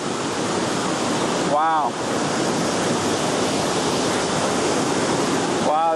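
Waterfall near Da Lat, Vietnam, pouring heavily with plenty of water, a steady loud close roar of falling water throughout, with a brief spoken exclamation over it.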